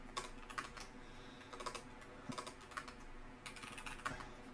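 Quiet, rapid clicking of computer keyboard keys in bursts, with short pauses between runs of keystrokes, close and faint in a still room.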